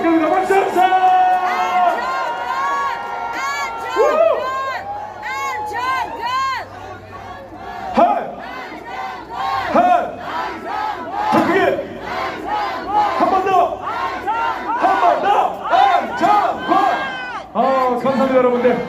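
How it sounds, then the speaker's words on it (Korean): A crowd at a street rally roars with cheers and shouts, many voices rising and falling in waves for several seconds, and applause mixes into the dense hubbub. "여러분들 큰 박수"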